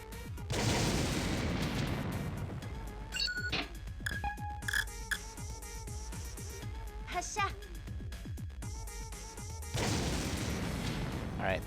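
Artillery fire in the video game War of the Human Tanks: heavy, broad booming blasts open and close the stretch, with a busy clutter of smaller impacts, crackles and electronic game tones between them.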